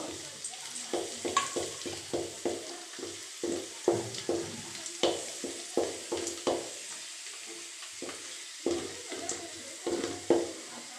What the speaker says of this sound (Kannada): ನೋಡಿ ಈ ಥರ ಚೆನ್ನಾಗಿ ಫ್ರೈ ಮಾಡ್ಕೊಬೇಕು